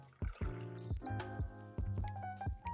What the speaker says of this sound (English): Let's pour the developer.